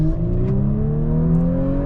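A 2018 Audi S4 engine pulls steadily through its eight-speed Tiptronic automatic while driving, a continuous smooth drone with rising harmonic tones as revs climb, heard from inside the car with no talking.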